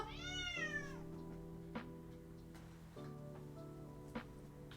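A pet cat gives a single rising-and-falling meow up close at the start, followed by quiet room tone with faint small clicks.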